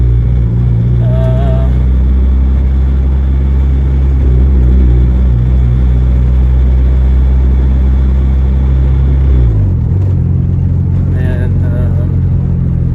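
A Honda EK hatchback engine running in a workshop, a loud steady close rumbling idle with a brief dip in pitch near the end, while people talk over it.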